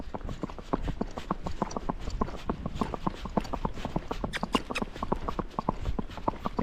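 Hooves of a Rocky Mountain horse clip-clopping in a steady, even four-beat gait under a rider, a continuous rhythmic clatter at close range on a trail, with no talk over it.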